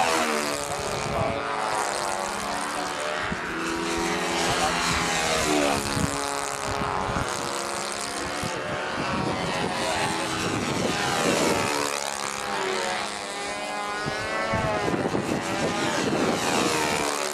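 A model airplane powered by a Saito 72 four-stroke engine flies at a national model aviation contest, its loud, continuous engine drone rising and falling in pitch as it passes overhead and banks away, with no talking.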